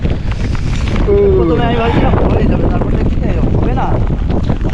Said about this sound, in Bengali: যেরকম ওয়েদার খারাপ হয়েছে সেরকম হাওয়া হচ্ছে